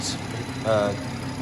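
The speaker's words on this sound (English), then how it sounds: "this is the straight 6 twin powered turbo engine" A BMW 440i Gran Coupe's straight-six twin-turbo engine idles steadily at close range, a low constant hum with a brief voice passing over it.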